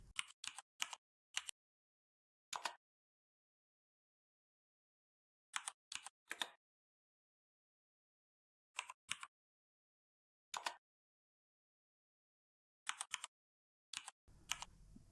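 Keystrokes on a computer keyboard come in short separated bursts of quick taps with silent pauses between, close and fairly quiet, while commands are entered in a terminal.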